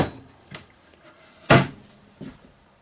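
A drawer in a converted cargo trailer kitchen opened and closed, with a few light knocks and one sharp, loud close, near and with no talking.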